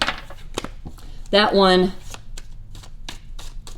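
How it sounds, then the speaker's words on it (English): A deck of tarot cards is given a quick riffle shuffle at close range. The burst is brief and crisp, and a voice speaks briefly around it. "Let me give these a quick little shuffle here."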